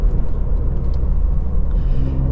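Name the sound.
tuned Ford Fiesta ST Mk8 wheels spinning up in third gear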